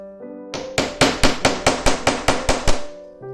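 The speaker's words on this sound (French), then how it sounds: "On pose l'embout qui va nous permettre de taper avec le marteau." A hammer strikes a metal setting tool to fix a Mondial Tissus eyelet into a fabric bag, about ten sharp, ringing metallic taps in a quick steady rhythm, close and loud, with no talking.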